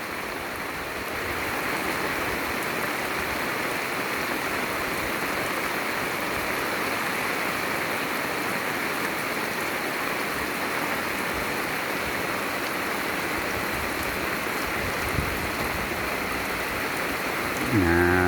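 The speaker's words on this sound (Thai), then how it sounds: "เล่นน้ำฝนเย็นสบายเลยนะ" Steady, heavy rain pours down continuously, a dense even hiss close around, with no voices.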